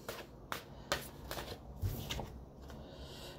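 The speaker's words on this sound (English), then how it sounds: "And then I'll shuffle them again." Tarot cards being shuffled at close range, a run of soft papery riffles and slaps with sharper snaps at a few points, steady throughout and with no talking.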